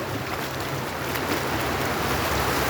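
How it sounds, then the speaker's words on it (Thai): Water flowing down along a canal makes a steady, full rushing hiss that holds at an even level throughout, with no voices. "น้ำไหลลง"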